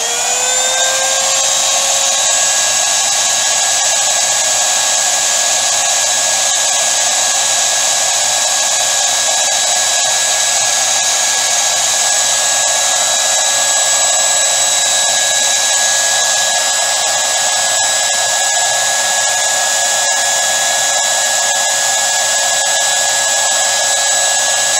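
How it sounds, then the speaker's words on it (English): An electric router runs continuously with a loud, steady high-pitched motor whine that barely changes pitch, close by and alone throughout. "I'm gonna hold the router down and I'm gonna hit the power."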